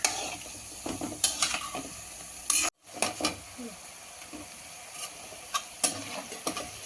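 Wheat flour seedai frying in hot oil, a steady bright sizzle with scattered crackles and pops, broken briefly by a near-silent gap before resuming, close and fairly quiet.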